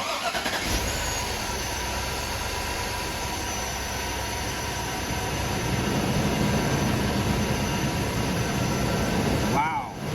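A car engine, in a car fitted with a high-power audio system, cranks and catches, then runs as a loud, close, steady hum that swells slightly before a short drop at the end.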